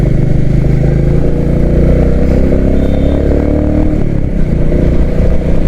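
A Royal Enfield Classic 350 next-generation motorcycle engine thrums steadily while riding, a loud, close, continuous mid-low drone with slight shifts in pitch and no speech.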